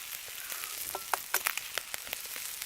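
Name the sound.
eggs sizzling in oil in a pan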